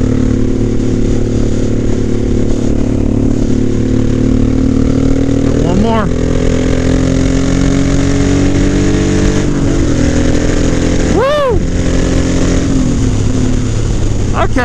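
A Honda 1100 Sabre motorcycle pulls away and rides in third or fourth gear, its engine droning loudly and steadily close to the mic, pitch rising and falling through the run, with no talking.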